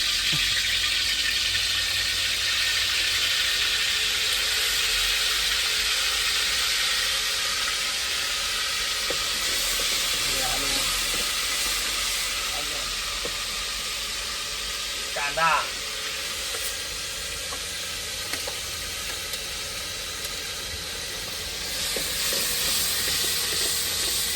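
Hot oil sizzles steadily in a pan with a continuous bright hiss, broken by a few soft clinks and scrapes partway through.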